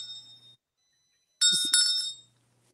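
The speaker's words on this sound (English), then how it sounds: "Could it be reindeer bells?" Small bells jingle indoors, a faint ringing tone first and then a brief bright burst of jingling that fades within about a second.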